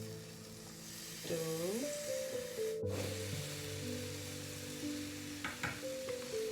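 Sweet condensed milk being stirred in a hot pan while making rabadi: steady, close sizzling and scraping of the spoon against the pan, with sustained tonal background sounds throughout and a sharp knock near the middle.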